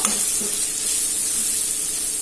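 Loud, steady sizzling as banana flower is dropped into hot tempering oil, a continuous frying hiss with a faint stir near the start.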